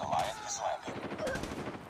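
Gunfire in Call of Duty Mobile, a dense burst of rapid shots over two seconds, loud and close, with sharp cracks layered over game noise and no clear talk.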